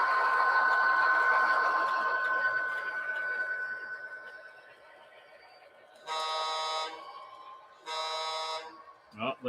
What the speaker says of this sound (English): Oh, there's that nice Rapido foghorn.